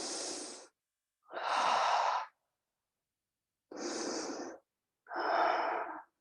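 Slow, deep breaths during a Pilates twist: four long, close airy inhales and exhales separated by short silences, with no talking.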